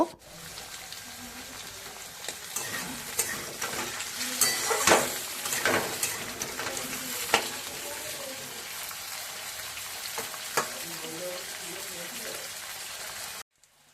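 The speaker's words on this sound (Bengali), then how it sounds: "ডিম কড়াই আলু হালকা করে ভাজা হয়েছে" Potato pieces and broad beans frying in oil in a pan, with a sizzle broken by scraping and stirring clatters. The frying is moderately loud at first, eases off after a few seconds and then continues more quietly.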